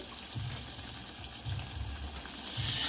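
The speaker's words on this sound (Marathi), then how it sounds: "आता आपण यामध्ये पाणी ऍड करू" Steady sizzling and crackling in a hot pan of spiced stuffed eggplant curry, with bursts of bubbling as water hits the oil; no talking.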